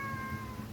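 A pet cat meows while being fed indoors, a short tonal cry held over low background rumble and handling noise, with no talk.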